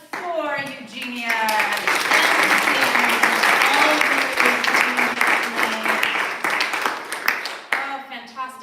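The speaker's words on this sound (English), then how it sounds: "Big closing round of applause for Eugenia." An audience at a poetry reading claps warmly for poet Eugenia Leigh, in a dense, sustained round of applause that swells and then fades, with a speaking voice heard over the start and end.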